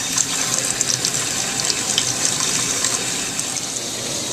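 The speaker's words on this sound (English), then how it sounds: "I'm hearing water. I'm seeing water coming out of there." Water leaking from a soldered plumbing pipe joint, a steady close hiss and spray of running water with no talk over it.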